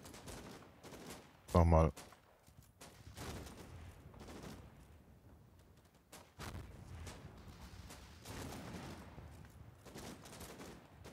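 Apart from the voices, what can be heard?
gunfire from a house in Combat Mission Final Blitzkrieg video game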